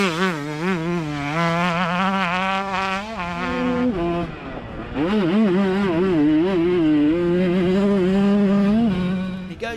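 A 125cc motorcycle engine on a racetrack with a jump-filled course, revving high and whining near the microphone, dropping briefly as the rider eases off, then climbing back up through the gears loud and sustained.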